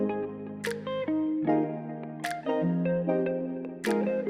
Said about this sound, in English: And then we got the snap.